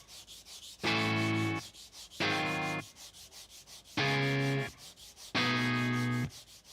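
Wood of a guitar body is sanded by hand in four distinct, close, even strokes, each lasting under a second with short pauses between, with no talking.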